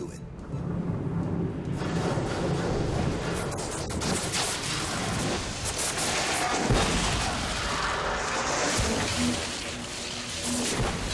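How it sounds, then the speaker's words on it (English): Explosions and rapid gunfire in the combat of Enslaved: Odyssey to the West, dense booming blasts and crackling bursts layered continuously throughout, loud and close, with a voice talking over parts of it. "you could have warned me about all the explosions"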